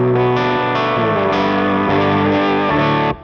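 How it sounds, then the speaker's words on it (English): Electric guitar heard through its neck pickup with a distorted, effected tone sustains a thick chord, shifting a few times before cutting off near the end, played alone and up close. "Neck pickup is way quieter."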